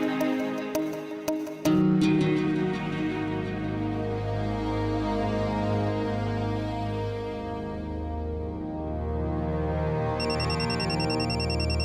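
A phone ringtone plays as a tonal melodic tune for about twelve seconds, loud and continuous, with no one speaking.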